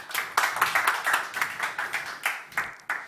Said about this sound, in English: So give a round of applause for Robert Daskalskas